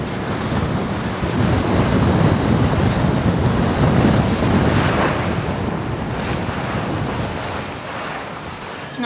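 Strong wind roars across the microphone over steady breaking waves and rushing water as a sailboat runs on a beam reach at about 9 knots in 24 to 32 knot true wind, loud and continuous throughout.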